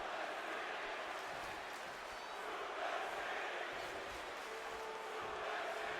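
Wrestling arena crowd in WWE 2K20 for an Adam Cole, Brock Lesnar and The Fiend match, a steady dense roar of many voices that swells and chants continuously at a distance, with no single voice standing out.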